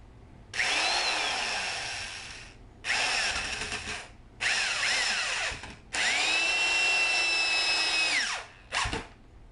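A corded power drill whirs in several separate bursts while building a carpet mill dog treadmill, motor pitch rising and falling as it starts and stops, with a short final blip.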